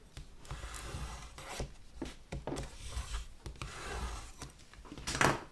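Paper being burnished down onto a handmade 10 x 10 x 3 inch gift bag, a run of soft, close rubbing and scraping strokes in irregular rhythm, with a sharper scrape near the end and no talking.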